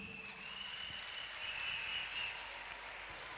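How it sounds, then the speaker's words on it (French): Audience at a French spelling-bee final applauds: a dense, continuous wash of clapping at steady moderate loudness throughout, swelling slightly in the middle, with no voices. "Ça s'applaudit."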